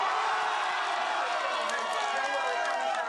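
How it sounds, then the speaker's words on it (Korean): A crowd of citizens breaks into steady, dense applause and cheering at the presidential impeachment verdict. The sound is close and continuous, with no pauses. "박수와 함께 큰 환호성이 터져나왔습니다"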